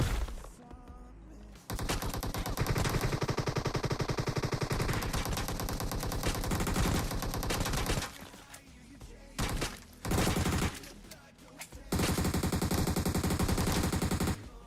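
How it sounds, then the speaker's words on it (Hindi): Dense automatic gunfire and overlapping bursts in a battle royale shooter game played on a low-end phone, loud and nearly continuous with short gaps, no talk over it. "यहाँ पर सामने वाले लगातार हम पे फायर कर रहे थे"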